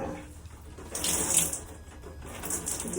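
Tap water runs steadily while locs are washed, a continuous hiss that swells louder in the middle and stays close, with no talking.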